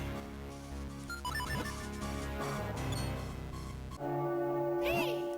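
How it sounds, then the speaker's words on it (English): A bell tolls in The Legend of Zelda: The Minish Cap, ringing over the game's melodic background music, followed by bright chiming tones as the music shifts. "Another bell has tolled!"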